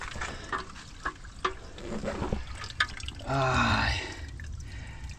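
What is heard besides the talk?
water from a holy spring trickling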